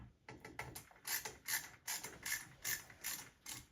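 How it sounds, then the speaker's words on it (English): A ratchet tightening screws during a ceiling fan installation clicks in quick, rhythmic bursts of close, crisp pawl ratcheting, with no voices. "Then you'll tighten down those 2 screws."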